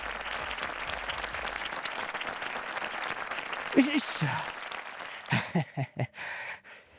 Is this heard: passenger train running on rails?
no